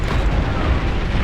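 Dense, roaring rumble of missiles bursting in the strategy game Beyond All Reason, a continuous wash of overlapping explosions with no clear gaps, loud and without voices.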